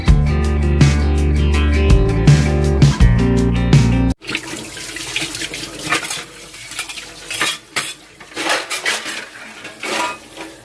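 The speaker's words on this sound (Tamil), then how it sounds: "மகரிப்பெல்லாம் தொழுது முடிச்சதோட பாத்திரம் எல்லாத்தையுமே வாஷ் பண்ணி வச்சாச்சு" Pots, pans and cutlery clatter as dishes are washed in a kitchen sink, with irregular clinks and scrapes over running water, following a stretch of music.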